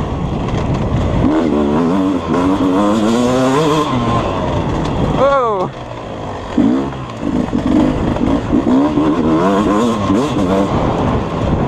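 A 2020 Beta 250 two-stroke dirt bike revs hard along a trail course, its loud engine note rising and falling through the throttle with a shift break midway, close to the rider throughout.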